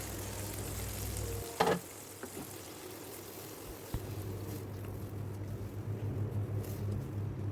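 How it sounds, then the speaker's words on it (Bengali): Chicken korma simmers in a pan with freshly added coconut milk and spices, a soft, low bubbling hiss broken by a few brief clinks and scrapes of stirring. "এরপর ভালোভাবে নেড়ে ছেড়ে মশলার সাথে নারকেলের দুধের সাথে মিক্স করে নিয়ে"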